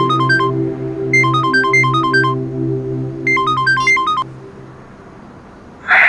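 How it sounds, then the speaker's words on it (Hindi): A melodic phone ringtone for an incoming call repeats in three bursts of rising electronic tones over a steady low hum, loud and close, with no talk. "देखा, जिसका नाम लिया उसी का फोन आ गया।"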